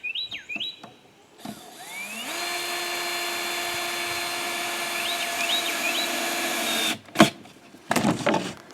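Power drill driving screws into wooden boards for a large rabbit nest box, a close, sustained whine of several seconds that cuts off, preceded and followed by short bursts of tool and handling noise.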